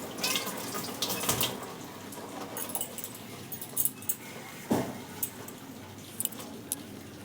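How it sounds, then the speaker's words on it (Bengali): Tap water runs onto the iron blade of a boti as it is rinsed, a soft continuous splash with a few louder clanks and metallic jingles scattered through. "এমনি বটির ওই উপরের লোহার অংশটা ধুয়ে নিলেই হবে"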